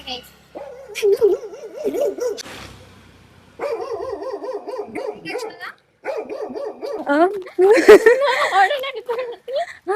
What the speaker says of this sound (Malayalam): നായ മതില് ചാടാൻ നോക്കി.